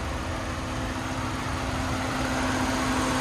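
A Toyota Camry SE engine idles steadily with a low, even hum and a constant tonal drone, close by and alone.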